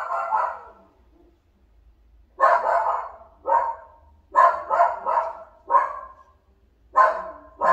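A dog barks in several quick bursts, loud and close, with short pauses between the volleys and no talking.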